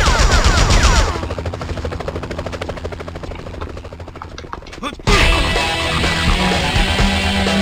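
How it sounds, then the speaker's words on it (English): Sustained rapid gunfire from the Spider-Man video game rattles on under a droning helicopter, loud and continuous, then cuts off abruptly into a brighter, denser wash of noise. "Enough with the shooting already!"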